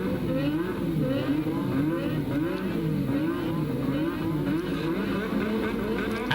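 Formula One cars at the 1985 South African Grand Prix at Kyalami, including a Williams Honda, engines revving hard and accelerating off the start in a loud wavering whine, with little talk.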